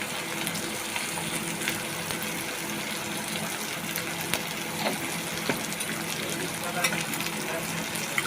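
Prawns coated with salt and turmeric fry in a pan of onions for a home-style okra and potato curry, making a moderate, watery hiss with faint crackles and occasional utensil ticks, low and fairly steady.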